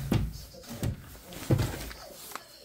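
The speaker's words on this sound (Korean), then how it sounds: "이런 여관에 오면은 이런 장이 있는데 뭐, 열어볼까요?" A cabinet in a cheap Korean motel room is handled and opened, giving several dull wooden knocks and thuds spaced unevenly, close by and moderately loud, with no talk.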